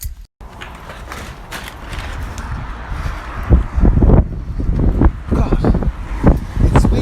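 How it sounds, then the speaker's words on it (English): Wind gusts buffet the microphone, rumbling loudly and building in strength partway through, with a few louder bursts and scattered clatter from outdoors. "it's windy, it's rainy. It's almost like autumn."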